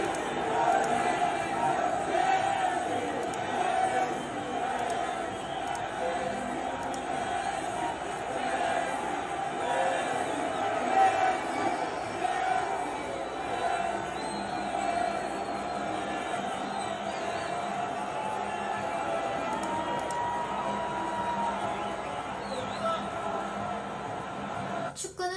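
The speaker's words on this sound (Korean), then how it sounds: "호날두를 향해 메시를 외치는 사우디 관중들" A large Saudi stadium crowd chanting Messi's name at Ronaldo, a distant sustained roar of many voices with rhythmic chanting swelling and fading, steady throughout.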